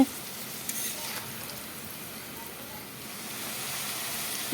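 Pieces of boiled jackfruit fry in a pan with a continuous, fairly quiet sizzling hiss that holds steady and grows slightly louder toward the end.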